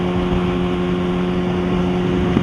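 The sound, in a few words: Kawasaki ZX6R motorcycle with M4 exhaust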